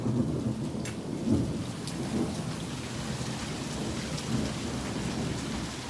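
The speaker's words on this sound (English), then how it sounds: "It is still hailing." A heavy hailstorm with thunder, with dense hail and rain pattering on surfaces in a steady roar and low rumbles of thunder rolling underneath, with no talking.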